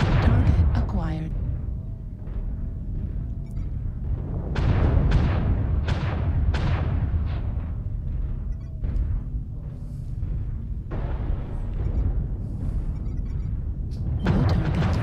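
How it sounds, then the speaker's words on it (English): Repeated booming artillery strike explosions in a mercenary company battle video game, a dozen or so sharp blasts with rumbling tails over continuous background noise, with someone commentating throughout. "Kirku getting hit by artillery strike"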